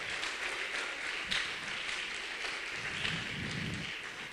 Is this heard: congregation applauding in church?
yes